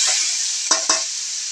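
Garlic and onion sizzle in a hot pan with a steady bright hiss, interrupted by two quick stirring scrapes, close and loud, with no speech.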